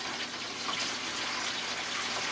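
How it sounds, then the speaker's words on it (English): Diluted nutrient solution pours into a propagation tray for pepper transplants, a brief close, steady hiss of running liquid with no voices. "I'm going to pour some of my very diluted nutrient solution into."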